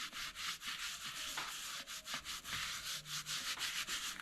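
A hand rubs a light coat of oil into leather, giving a soft, rhythmic swishing of quick back-and-forth strokes, close and quiet with no talking.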